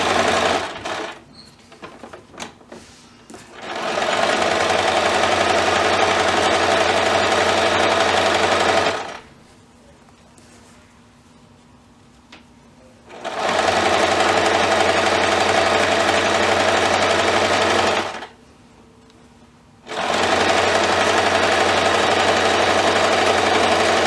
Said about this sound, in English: keep sewing across to the other side